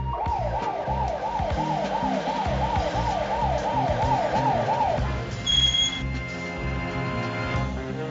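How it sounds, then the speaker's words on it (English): An ambulance siren wails in a steady up-and-down cycle on a city street in San Francisco, loud and close over traffic rumble, then cuts off, leaving engine noise and a brief high beep. "We want an ambulance to come through here."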